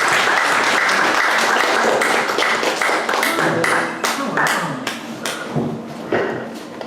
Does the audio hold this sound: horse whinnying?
no